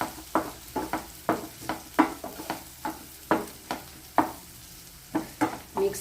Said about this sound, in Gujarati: ટામેટાને મિક્સ કરી લઈશું અને એને આપણે ચડવા દઈશું.